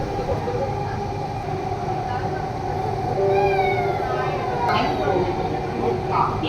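A Bangalore metro train runs with a loud, continuous rumble and rail hum heard from on board, with a rising whine partway through.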